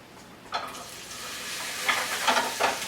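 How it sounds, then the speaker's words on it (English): Onions sauté in olive oil in a hot pan, producing a soft steady sizzle with a few louder bursts of frying crackle as they are stirred, close and moderately quiet. "I'm going to go ahead, take some olive oil and put it in the pan, which I already have going hot. I'm going to saute my onions"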